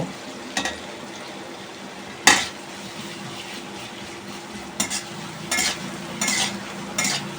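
Chicken stir-fried in mustard oil with cinnamon, cloves and green and black cardamom, a low sizzle under occasional sharp spatula scrapes and clinks against the pan, close and fairly quiet between the bursts.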